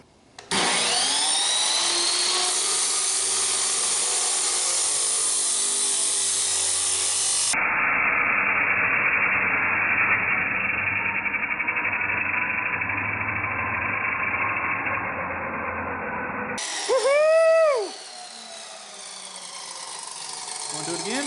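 A Chicago Electric 14-inch metal cut-off saw from Harbor Freight runs and cuts through metal, a loud, sustained motor roar and whine that drops in tone under load, then winds down near the end.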